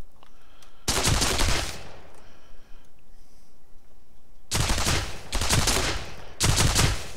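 Bursts of gunfire from a weapon in an Unreal Engine 4 multiplayer game: one long burst, then three rapid bursts after a pause, loud and close over a quiet background.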